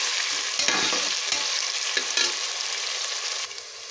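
Vegetables for vegetable rice frying and being stirred in a pan, a steady close sizzle with scraping stir strokes throughout.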